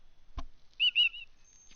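A small bird chirps twice in quick succession in the fantasy adventure game The Book of Unwritten Tales 2, giving bright, whistly tweets that follow a soft thump, then quiet.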